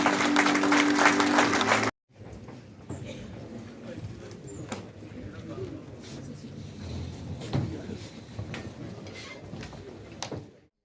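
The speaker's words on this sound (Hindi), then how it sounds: "जोरदार तालियों के साथ" Applause at a BJP membership drive launch at party headquarters in Jammu: a short burst of loud clapping cuts off abruptly, followed by a quieter room with scattered claps, shuffling and handling noises.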